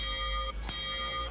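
A sound-effect bell for a movie rating rings once, a bright sustained chime with a sharp strike midway, fairly close and alone.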